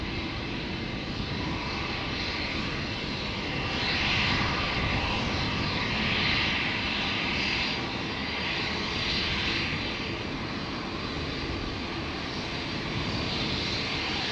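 Scandinavian Airlines (SAS) jet airliner departing Amsterdam Schiphol Airport for Copenhagen, a loud, steady engine roar heard up close throughout, swelling slightly midway with broadband rumble and whine, no talking.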